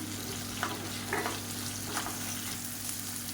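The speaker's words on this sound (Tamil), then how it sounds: "வெங்காயம் தக்காளி எல்லாமே நல்லா வதங்கும்" Onion and tomato sauté in oil for bottle gourd chutney, giving a steady, even sizzle close by with a few soft stirring scrapes and no talking.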